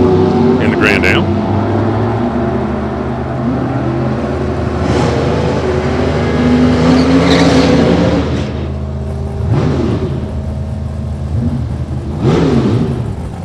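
A high-torque-starter Corvette and a Grand Am drag race, their engines droning loud and steady with repeated rising revs, while an announcer talks over the noise.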